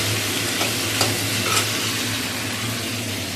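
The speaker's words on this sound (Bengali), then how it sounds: "একটু কষা কষা টাইপের করবো তা ভেজে নিচ্ছি আগে" Chicken pieces fry in a pan and get stirred, a steady close sizzle broken by a few sharp scraping clicks, with no talking.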